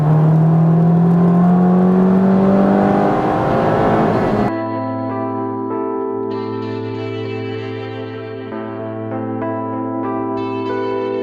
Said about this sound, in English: The hills were alive with the sound of VTEC.